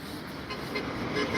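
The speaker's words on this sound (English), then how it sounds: "Horns honking" Short car horn toots sound over steady road traffic noise, moderately loud and close by.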